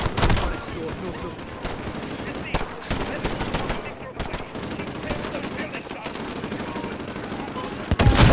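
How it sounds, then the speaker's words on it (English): Gunfire in Call of Duty: Modern Warfare (2019): rapid machine-gun bursts and single shots, loud and near, crackling through most of the stretch with voices talking over the shooting. "there's a building they're shooting out of"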